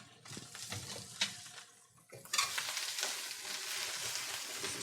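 Vegetables being stirred in a frying pan with maple, mustard and cinnamon, giving a steady close sizzle with light scraping and clinks, briefly quieter before the frying swells louder and continues.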